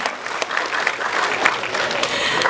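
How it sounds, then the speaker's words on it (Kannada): Audience at a Kannada film event clapping loudly and continuously, a dense close burst of applause. "ಒಂದು ದೊಡ್ಡ ಚಪ್ಪಾಳೆ ಪ್ಲೀಸ್"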